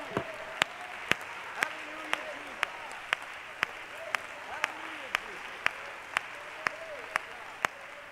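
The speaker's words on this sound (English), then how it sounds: "Can we clap unto the Lord for what he's done?" A church congregation claps in a slow, steady unison beat of sharp, evenly spaced claps over a worship service's ambient hum, a few tonal sounds drifting underneath.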